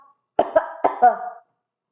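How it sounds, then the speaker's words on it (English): A short burst of three or four dry coughs in quick succession, close and fairly loud, followed by silence. "catch your cough"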